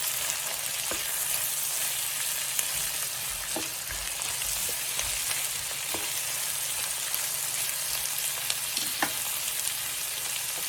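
One small chopped yellow onion cooking down in a pan for bayou chicken and pasta, giving an even, moderate sizzle with scattered light pops and spoon taps throughout.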